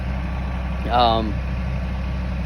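A tractor engine idles steadily throughout, a close, even low rumble, with a brief voice-like tone rising over it midway.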